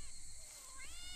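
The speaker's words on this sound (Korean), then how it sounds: "고양이 소리." A cat meows in a horror video game, a short plaintive call with rising and falling pitch over a low ambient hum.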